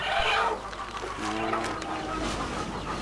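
Ayam Bangkok chickens on a farm give brief clucks over a short stretch of steady outdoor background, fairly close, with no talk.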